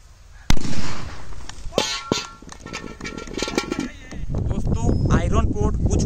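A bullet bomb firecracker goes off with a sharp, loud blast launching a 2 kg iron pot during Diwali testing, followed by clattering impacts and crackling, with excited voices and shouting afterward.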